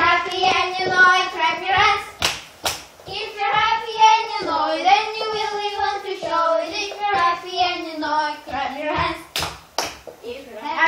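Children clapping along to a singalong of a clap-your-hands song in a phonics class, sharp scattered claps cutting through the sung melody, which dominates.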